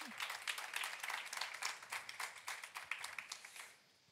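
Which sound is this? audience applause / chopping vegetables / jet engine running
audience applause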